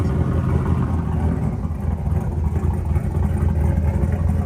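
A 351 Windsor stroker V8 runs close by with a loud, steady low rumble that holds without a break, and no voices are heard over it.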